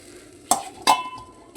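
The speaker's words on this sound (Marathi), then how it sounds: "थोडं मस्त उकळून घ्या त्याला, कडाकडा उकळून घेतल्यावर तर मग नंतर शेवटी दही टाकायचे" Chickpea curry in a pot being stirred, two sharp scraping clinks of a spoon against the pot over a quiet simmering background.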